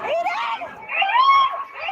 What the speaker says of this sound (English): People screaming for their loved ones